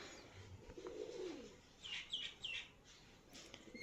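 Soft, low pigeon cooing rises briefly, joined by a few quick high bird chirps over quiet outdoor background.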